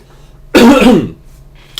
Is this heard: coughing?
yes